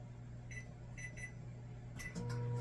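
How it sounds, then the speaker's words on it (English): A few short electronic beeps from a microwave oven, then a steady low hum as it starts running, quiet and close. "Now you want this to go into your microwave for 5 to 6 minutes"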